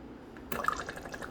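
A De'Longhi La Specialista espresso machine dispenses hot water from its tea and water setting, a soft steady trickling stream that starts abruptly and runs on quietly.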